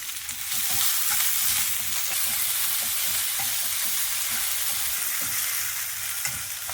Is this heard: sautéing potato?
yes